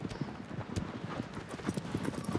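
Rapid, steady clip-clop of a horse's hooves galloping in the Shadow of the Colossus video game, moderately close and continuous, with faint talking underneath.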